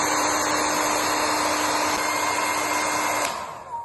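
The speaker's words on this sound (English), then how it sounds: "We are using the hair dryer as heat waves." A hair dryer serves as the heat source for a prototype eco-friendly air conditioning chip, blowing with a loud, steady whirring rush and a high whine that cuts off abruptly near the end and then fades.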